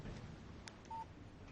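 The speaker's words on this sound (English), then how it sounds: "Text message from Barry." A phone's text message alert in the video game Alan Wake, a single short electronic beep, clear but quiet over faint background noise.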